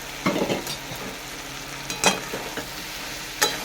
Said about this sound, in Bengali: কষে নেব ডাঁটা আলু কচুগুলো দিয়ে দেবো